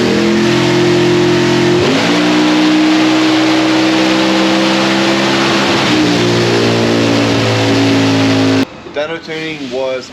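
A tuned car engine revs hard on a chassis dynamometer, its note climbing steadily through several gear-like steps as it pulls, loud and close, before cutting off near the end with some background noise.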